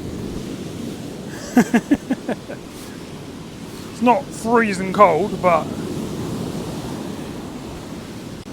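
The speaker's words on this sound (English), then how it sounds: "The waves must be, right, 6 to 10 foot, I reckon. They're massive." Rough sea with big waves crashing onto a UK shore at Skegness in a strong storm wind, heard as a constant broadband roar and buffeting under someone speaking briefly.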